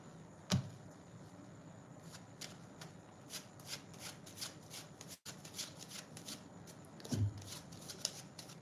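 Tarot cards shuffled by hand in a quiet room, a steady soft riffling and sliding with a few sharper flicks and taps, faint and close with no voices.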